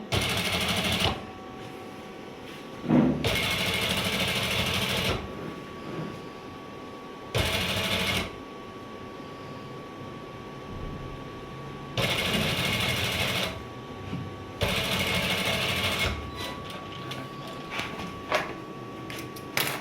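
Domestic sewing machine stitching seams in fabric in bursts of a few seconds each, a steady whirring rattle with pauses between runs and faint background sound in the gaps.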